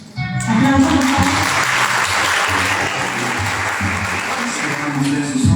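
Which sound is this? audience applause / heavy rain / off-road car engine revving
audience applause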